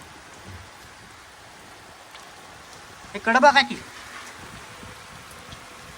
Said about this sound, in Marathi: पाऊस काय आज थांबत नाही